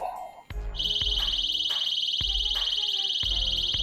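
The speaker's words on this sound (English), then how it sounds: "it will set off an audible alarm." An RV motion sensor alarm: a shrill, continuous electronic tone starts abruptly and keeps blaring loudly, with some thumps and faint background noise underneath.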